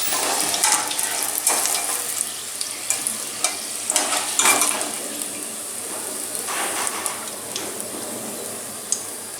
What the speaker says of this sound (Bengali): সমোসাগুলো হয়ে গেছে কড়া করে ভাজা।